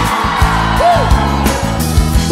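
Loud congregation yelling and whooping at a Brazilian evangelical church service, a rising shout over dense crowd noise with a voice briefly swooping upward.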